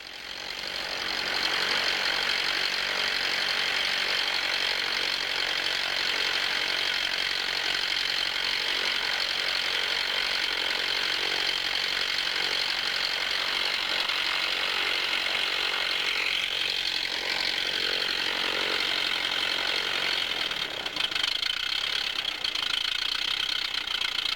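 An engine fitted with a Posa carburetor runs continuously during idle mixture tuning, a loud, steady, rattling drone with a rapid knocking texture, close and unbroken, with a slight change in tone near the end.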